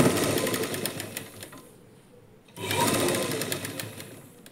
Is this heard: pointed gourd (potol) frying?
no